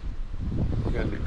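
Wind gusting steadily over an open jon boat on an arroyo, a broad close rushing roar filling the low end with a faint watery hiss above, under some talk.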